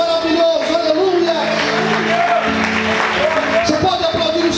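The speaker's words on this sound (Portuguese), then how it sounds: "Quantos podem aplaudir a esse Deus maravilhoso?" Church congregation applauding during a sermon, a steady wash of clapping mixed with shouts and cheers from the crowd while a voice carries on speaking over it.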